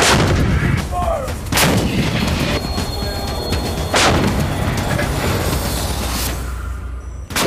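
A Marine artillery gun booms repeatedly during a training exercise, several heavy blasts with long rumbling echoes over constant loud background noise, no speech.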